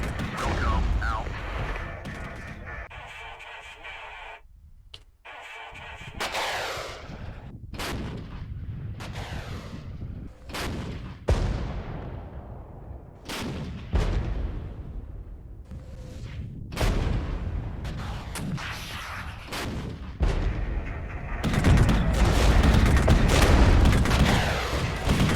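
Gunfire and artillery in the video game Regiments, a dense battle of sharp rifle shots and heavy booming blasts, some close and loud, others distant, rolling on without pause.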